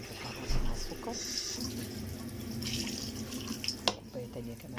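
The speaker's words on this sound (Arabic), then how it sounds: "هنجيب كوبايه ميه نحطها مع السكر" Water poured from a cup into a cooking pot holding sugar, a steady running splash lasting several seconds in a home kitchen, with a brief clink near the end.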